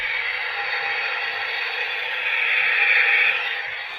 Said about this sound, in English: That's just what it sounds like when it's not moving.